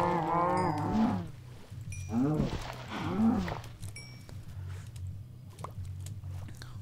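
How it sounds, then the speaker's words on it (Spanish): Minecraft cows let out several distinct moos, one after another, over a low steady background hum, with a voice talking between them. "Vaquitas everywhere, vaquitas everywhere."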